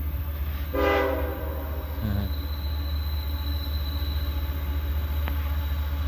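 A single short honk from a passing train's horn sounds near the tracks where there is no railroad crossing. A brief lower tone follows, all over a continuous rumble of rolling rail cars.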